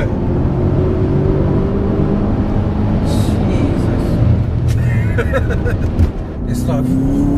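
A 1000bhp BMW F10 M5 accelerates hard with a loud, rumbling engine roar heard from inside the car, a rising turbo whine joining in, while occupants talk over it.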